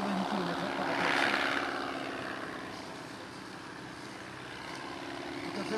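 A replica 1912 Deperdussin monoplane makes a slow pass into the wind, its propeller engine droning steadily and swelling slightly as it passes at moderate distance, with no talk over it.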